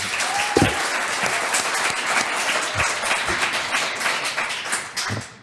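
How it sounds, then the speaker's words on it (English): An audience applauds after a rabbi's opening statement at a debate on the existence of God, steady full-room clapping with a few louder individual claps standing out. "please can we give a round of applause to Rabbi Daniel Rowe for his opening stateme"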